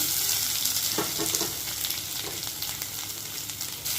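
Cashews and sour vakaya berries sizzling in a ghee tempering while a spoon stirs the pan, a steady loud hiss with scattered scraping clinks, close up with no talking.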